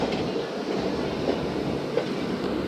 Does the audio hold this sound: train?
yes